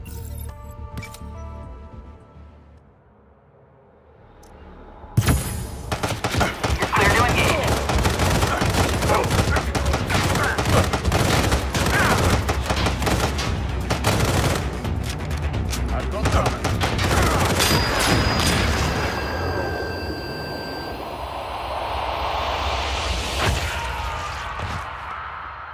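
Assault rifle fire in the mobile shooter Sniper Fury starts after a quiet lull, then crackles rapidly and loudly for about fifteen seconds, easing into softer game effects with faint voices near the end.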